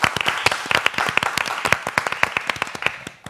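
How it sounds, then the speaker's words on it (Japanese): An audience at the SHOWROOM AWARD 2021 AKB48 prize ceremony claps. Individual sharp claps stand out in a lively, uneven patter of applause that fades slightly toward the end. "皆様改めて大きな拍手をお願いします"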